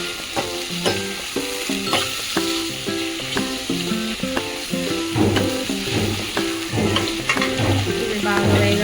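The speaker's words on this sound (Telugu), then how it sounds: "బ్రౌన్ కలర్ వచ్చేదాకా వేయించుకోవాలి" Green chilies sizzle and crackle in a hot pan for a puffed-rice uggani breakfast, a steady frying hiss running under a prominent rhythmic music track.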